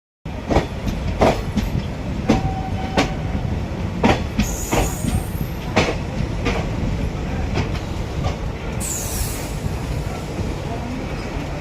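A passenger train rolls along the rails near Baranagar in Murshidabad, West Bengal, giving a steady loud rumble with repeated wheel clicks and brief high squeals, heard continuously from on board.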